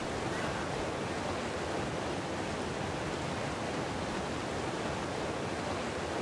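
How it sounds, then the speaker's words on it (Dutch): A waterfall rushing downward in the video game Ark Ragnarok, a steady, loud, broadband roar of falling water that stays constant without breaks. "er gaat gewoon weer een waterval naar beneden"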